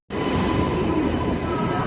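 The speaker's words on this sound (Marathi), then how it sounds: "ट्रेन आली" A late passenger train rolling into a station platform, a loud steady rumble of wheels and carriages that starts abruptly and holds close and constant throughout.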